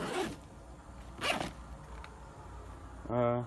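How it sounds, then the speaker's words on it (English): A small tool bag stowed in a first-generation Toyota RAV4 is zipped shut in a few short, close, quick strokes, the zipper rasping loudly with pauses between pulls and a brief vocal sound at the end. "It does take two hands to zip up because I haven't gotten it attached."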